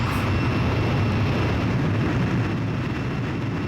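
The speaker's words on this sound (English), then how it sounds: "Blaze, you are cleared for takeoff." A fighter jet in Ace Combat 5 taking off, a steady, loud roaring engine rush that holds evenly throughout with no speech over it.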